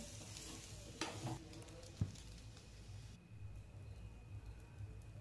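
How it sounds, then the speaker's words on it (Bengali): Pre-fried vegetables sizzle together with potatoes in a wok, a quiet, even frying hiss broken by a couple of sharp spatula clacks early on, then settling into soft continuous crackle. "আমরা যে ভেজে রাখা সবজিগুলো রেখেছিলাম সেইগুলো এর মধ্যে দিয়ে দেব, যাতে আরও ভালো করে সবগুলো একসাথে ভাজা হয়ে যায়।"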